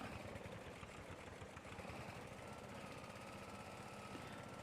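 A tractor engine in Farming Simulator 22 labours steadily while climbing a slope, a constant, dense rumbling chug with a rapid knocking pulse and no letup or talking.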